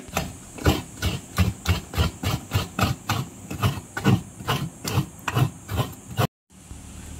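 Coconut grated by hand in a kitchen for a vegetable dish, a steady run of about twenty rhythmic scraping strokes close to the microphone, then a short pause before a quieter final scrape.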